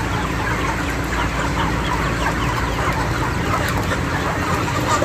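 Dense, continuous clucking from a large flock of Ross 308 broiler chickens inside a poultry house with an electronic scale on the floor, many birds overlapping closely with no pauses.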